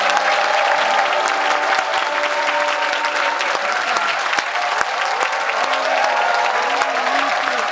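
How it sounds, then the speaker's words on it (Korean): A crowd applauds at the launch rally of the Green Justice Party as a singing group is welcomed to the stage. The clapping is dense, steady and loud throughout, with a faint voice now and then underneath. "여러분들의 힘찬 박수로 모시겠습니다"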